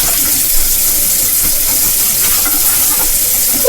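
Water runs steadily from a tap beside a kitchen countertop, a continuous close hiss of flow with a brief rising squeak near the end.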